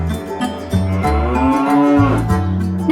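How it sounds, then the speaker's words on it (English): A Simmental cow on a farm gives a loud, close moo, a long low bellow that rises and wavers in pitch, then breaks off and is followed by another moo. "This is a simmental cow."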